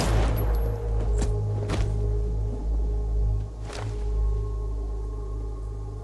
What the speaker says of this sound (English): Somehow the gunshot takes even you by surprise.